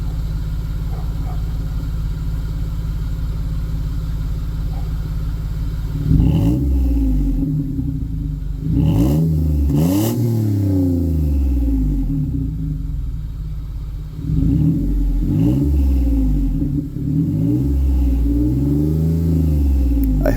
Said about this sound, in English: I gotta paint the exhaust still to hide the silver, but let's give it a rev